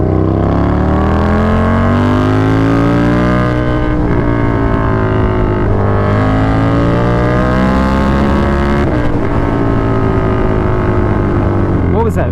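A KTM 1290 Super Duke R motorcycle engine revs hard and climbs through the gears. Its loud, continuous drone rises in pitch, then drops briefly at each quick upshift before pulling again.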